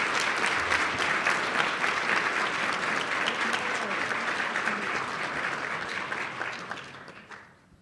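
Sustained audience applause for graduating students at a recognition ceremony, a dense steady wash of clapping from a large crowd that holds strong throughout and then fades away at the very end.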